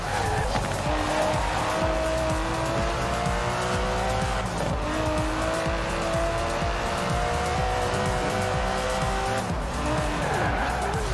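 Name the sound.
Aston Martin DB11 car racing in video game Forza Horizon 4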